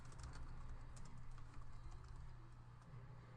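Light typing on a computer keyboard, a soft steady patter of key presses heard faintly over a low background hum.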